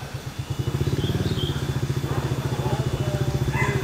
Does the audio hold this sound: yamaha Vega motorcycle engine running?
yes